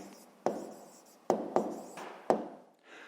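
A pen writes on paper in a Ukrainian fifth-grade math exercise: soft scratchy strokes, with four sharper taps as the pen touches down, close and quiet.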